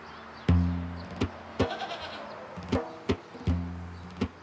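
A goat bleats several times in short, nasal calls, with sharp knocks and clatters scattered between them.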